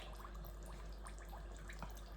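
A pint of water is poured onto cornmeal for Jamaican porridge, a faint, thin trickle with soft splashes and drips over a low background hum, quiet and close.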